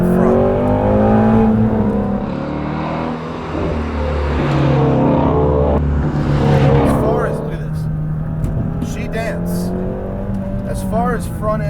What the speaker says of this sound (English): The special snarl is that sound that separates the 350 engine, the Voodoo engine, from the regular Coyote engine.